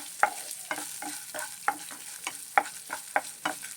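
Onions fry in a pan with a soft, continuous sizzle, punctuated by regular sharp clinks and scrapes of a spoon stirring every half second or so.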